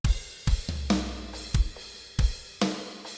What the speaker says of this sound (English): This is the finished drum pattern.